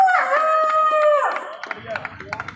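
A voice imitates a jackal's howl with a sustained wavering wail that falls off, followed by scattered claps and murmuring in the background, at a Krishna Janmashtami celebration in a temple.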